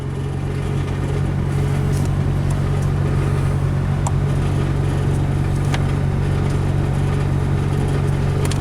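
A Nissan engine idles steadily with a persistent rattle from a rusted-off exhaust pipe, a constant low droning hum running unbroken and close by, with no talk.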